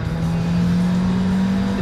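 An Abarth 595 with a small-displacement 1.4-litre turbocharged engine gives off a steady, loud growling drone that holds an even pitch throughout, with no talking over it.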